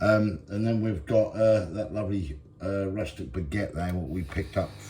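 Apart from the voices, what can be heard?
None of the usual background noises is heard.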